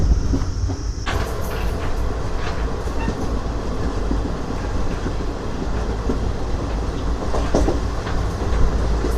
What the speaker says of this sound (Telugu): ఇక్కడ మన ట్రైన్ స్టాప్ చూసుకుంటే వన్ మినిట్ అయితే ఉండింది బయలుదేరిపోయింది